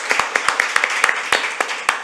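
Sparse, uneven hand claps from a small audience at a legislative forum on strengthening accounting oversight of outsourced local-government services, a dozen or so sharp separate claps over two seconds with no talk.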